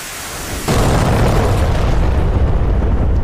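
Rocket launches from an MLRS launcher in the combat simulator DCS World: a quiet lead-in breaks into a loud, sustained roaring blast of rocket fire with rumbling booms that continue to the end.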